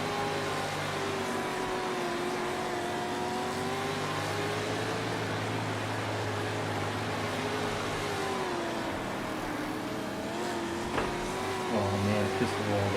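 Dirt race car engine in a World of Outlaws dirt racing career-mode video game, a steady loud droning roar with shifting pitch held throughout, swelling slightly near the end.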